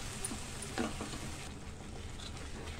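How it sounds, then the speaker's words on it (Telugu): Eggs deep frying in a little oil for masala egg curry, a steady close sizzle and crackle with a few brief stirring clatters, no talking. "కొంచెం ఆయిల్లో కొద్దిగా డీప్ ఫ్రై అవ్వాలి."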